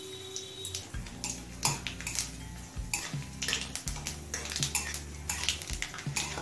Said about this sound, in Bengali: কালো জিরেটা 8-10 সেকেন্ড ভেজে নিলাম